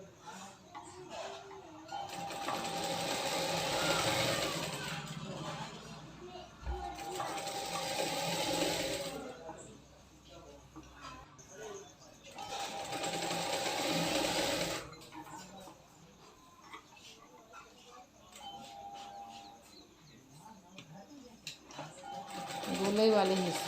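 A sewing machine stitches the curved section of a katori blouse in several long runs of steady whirring, separated by pauses in which someone talks.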